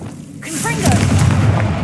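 A Confringo blast spell bursts with a heavy boom in Hogwarts Legacy, followed by a sustained rumbling, crackling roar and bright magical whooshes that fill the rest of the moment.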